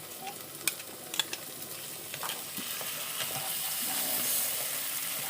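Poppy seed and black mustard paste sautéing for a hilsa dish, with a steady soft sizzle and occasional stirring clicks and scrapes, faint and close throughout.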